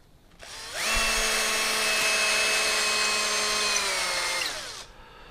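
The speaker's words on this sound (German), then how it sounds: "Ein bisschen weiter aufbohren hier." A power drill bores out a hole in a wooden dog toy, spinning up sharply and holding a steady whining pitch for several seconds before winding down, close and alone.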